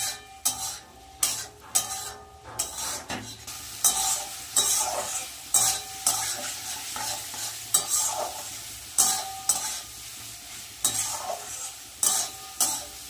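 Spices and thin strips of potato being stir-fried for a spicy fish curry, with repeated scraping stirs of a spatula against the pan over a steady close sizzle, the strokes coming in a regular rhythm.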